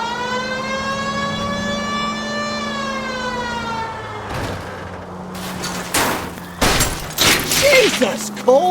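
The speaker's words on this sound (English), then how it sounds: "Why aren't you using the siren?" A video game police car siren wails steadily with a sliding pitch, then fades into bursts of loud crashing and banging, with someone shouting over the noise.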